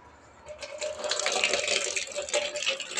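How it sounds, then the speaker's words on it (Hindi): Water runs steadily from a tap into a container for pigeons, with a continuous splashing fill that starts softly and then holds at a constant level. "इसके अंदर पूरा पानी भरते हैं।"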